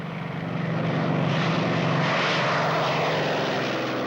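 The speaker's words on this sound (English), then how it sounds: "The German fighter planes, the Me-109 and the Focke-Wulf 190" Steady, loud droning engine roar of a German WWII fighter plane, such as the Me-109 or Focke-Wulf 190, swelling in over the first half second and then holding constant.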